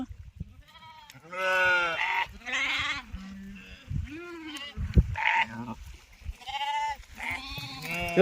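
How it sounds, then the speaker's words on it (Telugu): Sheep at Muttaram pond being washed, bleating repeatedly and loudly in overlapping calls close by, with people's voices mixed in. "ఈడ గొర్రె కడతాను"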